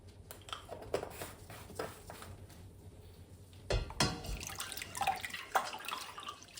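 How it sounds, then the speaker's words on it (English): A spoon rinsed under a running tap in a home kitchen, water splashing and dripping in quick bursts with a couple of sharp clinks near the middle, fairly quiet and close. "Let's give my spoon a rinse."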